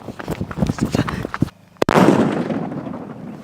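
A Sivakasi firecracker goes off outdoors after some rustling and movement: a short pause, a sharp crack, then a loud blast that rolls and fades over a couple of seconds.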